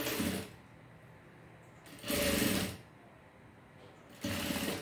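A sewing machine stitches over bias binding in three bursts of steady, fast mechanical whirring, close by, with quiet pauses between runs.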